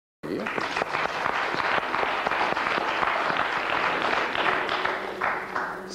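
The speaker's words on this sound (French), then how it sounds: "Minceur, on l'applaudit maintenant." A studio audience at a televised game show applauds steadily, the dense clapping starting abruptly and holding for several seconds before tapering slightly, with a voice speaking faintly underneath.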